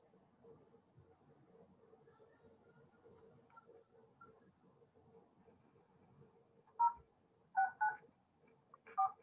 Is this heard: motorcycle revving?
no